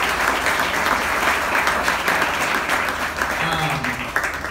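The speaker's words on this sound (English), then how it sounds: "give it a big round of applause" Big round of applause from a community gathering, loud and dense, clapping continuously for several seconds with crowd noise mixed in.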